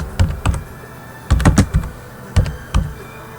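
Keys on a computer keyboard are tapped in short uneven clusters, crisp close clicks separated by brief pauses.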